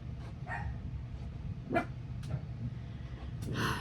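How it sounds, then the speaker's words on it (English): Dogs bark several times off in the distance, sharp scattered yaps spread irregularly over a few seconds against a steady low room rumble. "Jeez, dogs."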